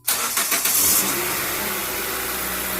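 A 2000-2006 Nissan Sentra 1.8L engine cranks and fires after head gasket work, catching with a brief burst near the start and then settling into a steady, close idle that holds for the rest of the clip.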